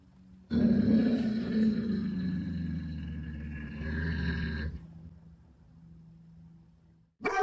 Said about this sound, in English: You can hear Comet growling at something in the hallway, as if it's sensing danger.